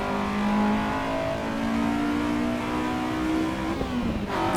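A Mini Cooper engine with twin exhausts revs steadily toward 8,000 RPM in the racing game Assetto Corsa EVO, droning at high pitch, loud and close, with a rising whine and a brief shift near the end.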